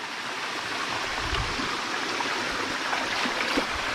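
A flowing stream babbles steadily, with close gurgles and small splashes over a constant watery hiss.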